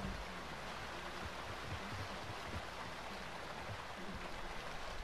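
Steady rushing waterfall in the video game Call of Duty: Modern Warfare II, a constant broadband roar of falling water filling the whole clip at even loudness with no talk.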